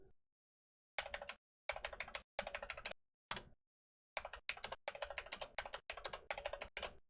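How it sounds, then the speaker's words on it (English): Bursts of key typing on a computer keyboard while a root password is set during an Arch Linux install, several quick rhythmic clusters separated by short silences, close and clear with no voices. "you just do that by typing password and then entering your new password"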